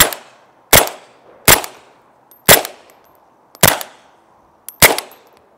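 Six loud, sharp gunshots ring out one by one at roughly one-second intervals, each a crisp crack with a short decaying tail, fired into an Omniprotex OPX-Ultra body armor vest during a ballistic test.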